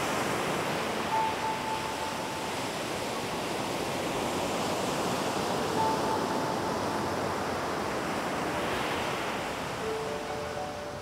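Pacific Ocean surf rolling onto a beach, a steady loud wash of breaking waves with constant hiss and no voices.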